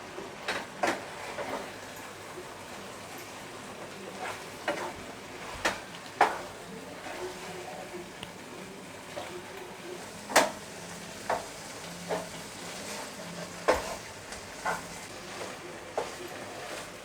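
Pav buns are coated and fried in butter masala, giving a soft, steady sizzle in a pan, broken by scattered clinks and scraping strokes from a spatula at irregular intervals.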